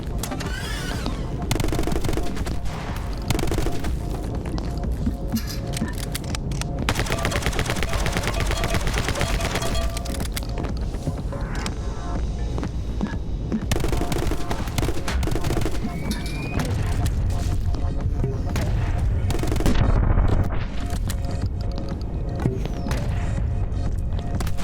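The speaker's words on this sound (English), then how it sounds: "the sniper rifles in this game have an extremely fast rate of fire" Rapid sniper rifle fire in the video game My Friend Pedro comes as dense bursts of gunshots, near-continuous and loud over a busy game soundtrack, with brief pauses between volleys.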